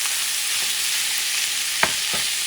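Ground beef fries and sizzles loudly and steadily in a pan with tomato and seasoning, with a couple of brief scrapes of stirring close by.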